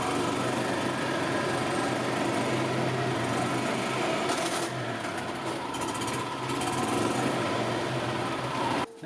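A gas-powered 2000 Yamaha G16 golf cart engine runs steadily after sitting four years, a loud continuous mechanical hum with a buzzy, sewing-machine-like rattle that holds throughout before cutting off abruptly at the end.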